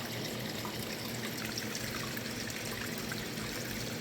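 Creek water running smoothly beneath thick dog fennel in a garden, a steady, close trickle and gurgle with no pauses and no voices.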